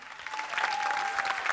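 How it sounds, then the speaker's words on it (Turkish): Studio audience of a Turkish TV variety show applauding a fan club, a dense steady wash of clapping hands filling the room, fairly loud and continuous with no talk over it. "Bir alkışları görelim bakalım."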